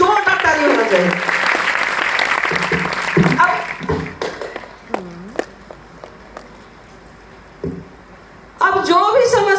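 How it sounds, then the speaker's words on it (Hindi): An audience at a DXN family gathering claps loudly for a few seconds, the applause thinning into scattered claps and then surging again near the end, with a voice speaking over it. "इनके लिए भी जोरदार ताली होना चाहिए।"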